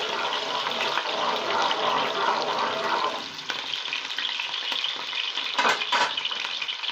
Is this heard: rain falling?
no